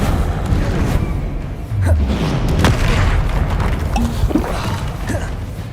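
A Confringo spell explosion in Hogwarts Legacy: a deep booming burst with rumbling impact and creaking mechanical clatter, loud and continuous across the scene, with no voices.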